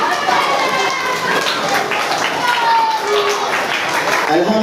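Schoolchildren at a Hari Raya school celebration applauding together, a dense, continuous round of crowd clapping lasting a few seconds, fairly loud and close.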